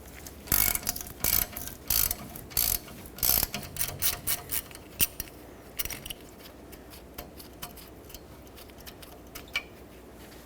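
A ratchet works loose the 10mm bolt holding the rear ABS sensor on a 2011-2016 Ford F-350. Several loud, quick clicking bursts come first, then softer, sparser clicks and faint handling noises.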